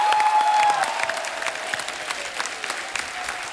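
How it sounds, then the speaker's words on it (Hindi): Studio audience at a Hindi TV comedy show applauds as four finalists are welcomed: continuous, lively clapping that starts loudest and settles into a steady wash of hands throughout. "जोरदार तालियां होनी चाहिए"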